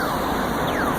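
A pedestrian crossing signal in Madrid, Spain, chirping like a bird, with a loud electronic sweeping tweet repeating quickly over constant street noise, heard with no talk.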